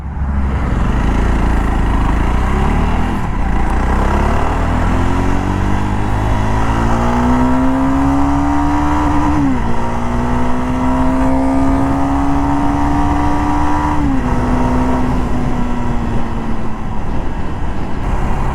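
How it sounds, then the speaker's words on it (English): A loud Jawa Perak BS6 motorcycle engine revs up steadily in first gear, pitch climbing, with two brief dips as it keeps accelerating; no talking. "So it's in first gear. So let's pull the motorcycle in one of the sweetest way that I can."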